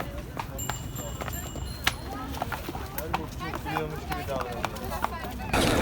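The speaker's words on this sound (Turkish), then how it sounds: "İngiliz atı mı ne bu?" Horse hooves clip-clop repeatedly in a steady, fairly close rhythm amid the noisy crowd and chatter of a large outdoor rally, with voices talking throughout.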